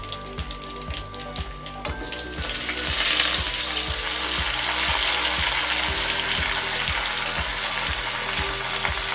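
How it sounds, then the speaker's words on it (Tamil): Sorrel leaves (pulicha keerai) sauté in a pan with a bright, steady sizzle that swells after a couple of seconds, over a regular low mechanical ticking that continues throughout, close and with no talking. "இப்போ இந்த கீரையை வந்து நல்லா வதக்கிக்கலாம்."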